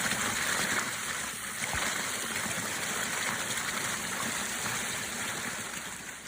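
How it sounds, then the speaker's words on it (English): A Vermont river rushes in a field recording, giving a steady, dense broadband wash of flowing water that stays close and continuous throughout, with no voices. "I actually went to Vermont and spent a couple of days recording many hours of a particular river"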